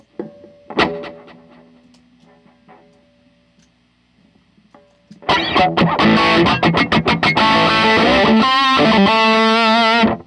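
An electric guitar plays through a Cmatmods Brownie overdrive pedal with a Marshall-like tone: a brief crunchy chord and quiet picking, then a loud burst of distorted strumming and riffing.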